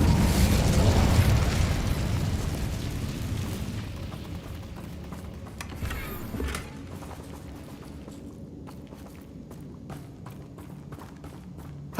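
A fiery Incendio spell blast erupts in a Hogwarts Legacy battle against Ranrock's loyalists, a loud roaring burst that slowly fades into crackling pops and scattered impacts.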